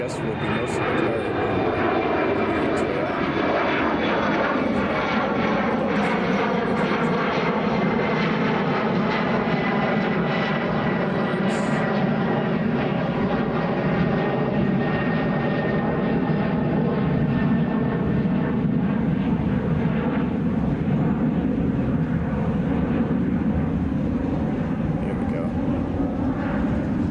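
Jet airliners rumble and roar at Chicago O'Hare International Airport, a loud, continuous engine drone with a slowly shifting whine as an aircraft passes nearby, and someone talks over the noise.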